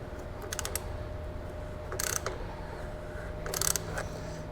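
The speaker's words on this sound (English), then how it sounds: "We'll go ahead and put our wrench on, give it just a little bit of a turn, make sure we're snug on that filter, and then just go ahead and start breaking this loose." Wrench clicking and ratcheting as it turns and breaks loose the oil filter on a John Deere X380 riding mower, in a few short bursts of clatter over a low steady background.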